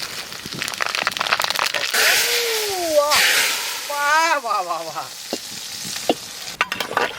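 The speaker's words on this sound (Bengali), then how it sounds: "এখন আমরা ফোড়ন দেবো সর্ষের তেল ফোড়নে দেব শুকনো লঙ্কা আর পাঁচ ফোড়ন" Dried red chilies and panch phoron crackle and sizzle loudly in hot mustard oil while being stirred to temper khichuri, close up, with a voice speaking briefly partway through.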